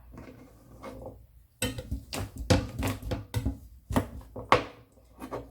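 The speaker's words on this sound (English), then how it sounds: "I do have a grinder for my garlic, but sometimes I don't bother. I just chop it up." Garlic being chopped on a board, heard as a quick, close series of knife thuds in uneven bursts after a quiet start, with no talking.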